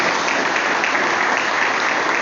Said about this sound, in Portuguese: Vamos aplaudir ao nosso Senhor Jesus Cristo.